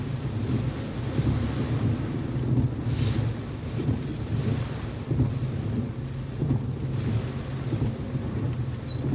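Strong Typhoon Odette wind roars and buffets the microphone in Lapu-Lapu City, a continuous low rumbling blast that surges in gusts, loud and close, with rain hiss mixed in.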